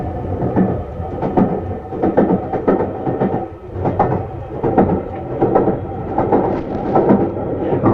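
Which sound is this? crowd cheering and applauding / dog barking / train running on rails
train running on rails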